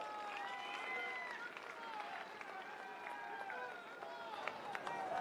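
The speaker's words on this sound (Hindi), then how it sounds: "आप सब तालियों से अभिनंदन करें।" Crowd applause at an outdoor political rally in India, a broad, steady spread of clapping from many people with a voice and crowd noise over it, at moderate distance.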